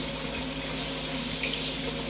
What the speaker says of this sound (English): after they're peeled, we'll rinse them off in cool water and remove any other debris that was left behind from the peeling